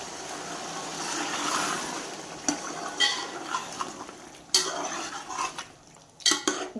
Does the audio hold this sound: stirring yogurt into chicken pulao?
yes